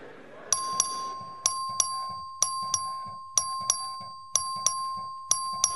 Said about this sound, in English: The clerk will please ring the bell.